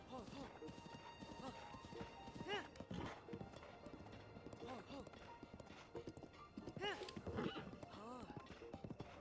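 A horse gallops in The Legend of Zelda: Breath of the Wild, with rhythmic clip-clop hoofbeats and occasional whinnies under a speaking voice, with game music quietly behind.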